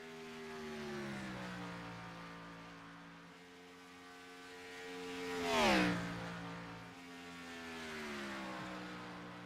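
A race car engine in the iRacing simulator's Grand National Series drones with a steady harmonic whine that rises and falls. One sharp pitch-dropping pass-by sweeps through midway before the drone settles again.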